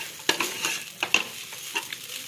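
Onions and vegetables for garlic noodles are stirred in a hot frying pan. Irregular scraping strokes sound close against a steady low sizzle.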